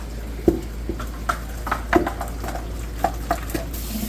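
Dried beans being rinsed in a pan for home canning, giving soft irregular clatters, taps and stirring swishes close by over a steady low hum, with no talking.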